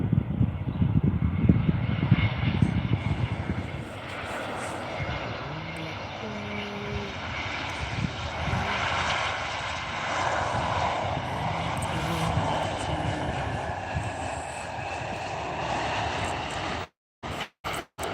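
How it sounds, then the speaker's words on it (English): A South African Airways Airbus A320 arriving from Victoria Falls, Zimbabwe, lands at OR Tambo International Airport, its jet roar rumbling loud and steady for about seventeen seconds before breaking off abruptly. "South African Airways, Airbus 320, all the way from Victoria Falls"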